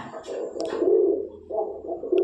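Soft, low coos of Punjabi Malvai pigeons rise and fade in a few short phrases, close by, with faint rustling and clicks in between.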